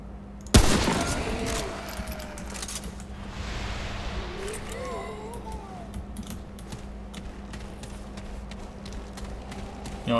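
Video game gunfire erupts in a sharp loud burst near the start, followed by a steady rattle of quieter shots and clicks over a low constant hum.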